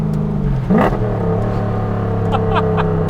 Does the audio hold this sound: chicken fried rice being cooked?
no